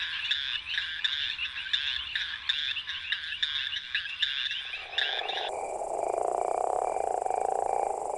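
A leopard toad croaks from its inflated throat pouch in an urban garden: a rapid pulsed snoring call repeating steadily for about five seconds, close and clear, then giving way to a continuous insect-like buzz.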